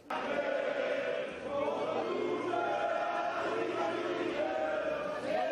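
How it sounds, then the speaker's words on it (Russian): Le Pen supporters cheer and shout together in a packed crowd at a French far-right election victory, a dense, sustained roar of many voices with rising yells, continuous and loud. "Вы видите ликование сторонников Ле Пен в тот момент, когда стало понятно, что французские ультраправые одержали оглушительную победу"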